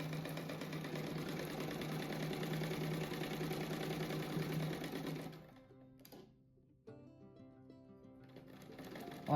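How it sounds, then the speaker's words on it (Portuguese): A sewing machine runs steadily, stitching patchwork pieces together for a star-shaped rug, its continuous mechanical whir loud for about five seconds, then it stops and only faint room sound remains. "agora eu vou costurar no meio aqui"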